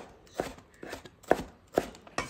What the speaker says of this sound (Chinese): 再切成西红柿丁